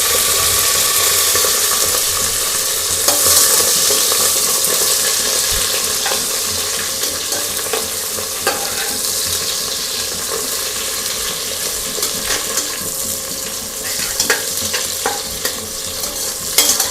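Fenugreek leaves fry in a pan and are stirred steadily, giving a constant loud sizzle with scraping and clinking of the spoon throughout, without talking.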